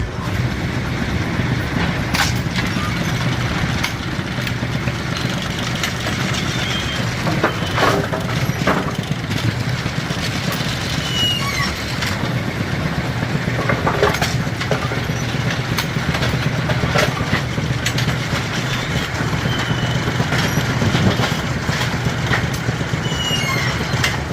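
A Brunswick A2 bowling pinsetter starts up and runs steadily, a continuous mechanical rumble and hum with scattered clanks and rattles of moving parts throughout, fairly close and loud.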